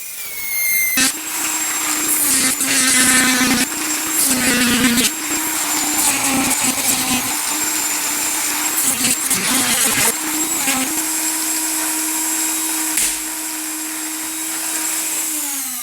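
A high-pitched Dremel rotary tool whines loudly, its pitch dipping and rising as it bites into a golf cart windshield in bursts, with brief pauses between cuts.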